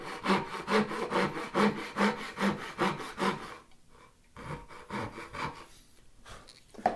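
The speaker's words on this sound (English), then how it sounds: "Do basically the exact same thing, only this time I'm cutting a straight line." Hand saw cutting a straight line in wood for inlaid dovetails, with rhythmic back-and-forth rasping strokes, close and clear, then a pause and a few slower, quieter strokes.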